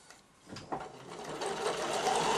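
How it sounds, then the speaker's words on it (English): A sewing machine stitches close to the edge of a child's dress facing, its motor whirring up from quiet and building into a steady, close running hum. "you're going to sew quite close to the edge"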